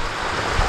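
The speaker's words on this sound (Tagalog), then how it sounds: "umuulan nga lang." Rain falls steadily on a farm plot during a taro harvest, a dense, even hiss with no voices over it, lasting under a second.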